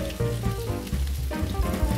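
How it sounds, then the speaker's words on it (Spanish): Cut cabbage and onion drop into a hot pan, giving a dense, continuous hiss and crackle like heavy rain, close and steady throughout with no voices. "Vamos a añadir el repollo que hemos cortado."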